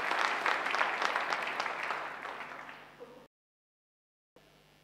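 Audience applause at the Steve Biko memorial lecture, a full hall clapping loudly and steadily before fading out and stopping abruptly.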